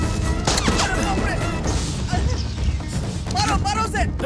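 Gunfire crackles in a dubbed Indian action movie scene, with bursts of shots and crashes over dense, chaotic soundtrack noise and excited voices shouting throughout.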